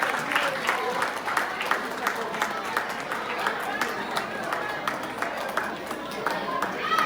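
An audience claps through a formal lamp-lighting inauguration session of a KRSA New York chapter cultural evening, with moderate, somewhat distant clapping rising and falling under ongoing talk.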